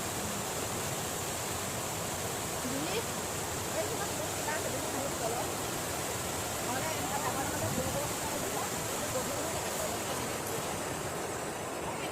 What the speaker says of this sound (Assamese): নদীৰ পানীখিনি কিমান শব্দ দেখিছে নাই বহুত শব্দ